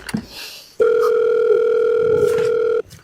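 A loud, steady electronic telephone tone sounds once for about two seconds, then cuts off, with quieter background noise before and after.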